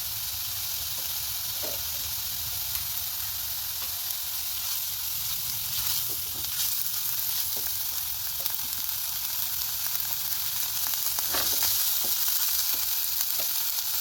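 Ginger paste frying in a pan for prawn malai curry, giving a continuous close hiss and sizzle with scattered light stirring taps, steady and loud throughout with no voices.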